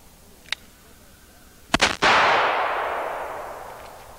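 A few close rifle or large-caliber gunshots: a sharp early crack, then two quick loud reports, each followed by a long echoing decay that rolls away outdoors.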